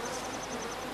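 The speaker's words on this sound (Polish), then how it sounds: "Słyszymy także pszczoły." Bees buzz in the survival video game Don't Starve, a faint steady hum pulsing softly over a brief moment of game ambience.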